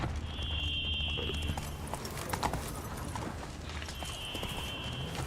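A horse galloping in The Witcher 3: Wild Hunt, steady rhythmic hoofbeats close by, with a faint high tone drifting in and out over the top.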